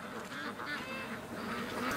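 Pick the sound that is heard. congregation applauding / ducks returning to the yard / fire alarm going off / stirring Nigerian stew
ducks returning to the yard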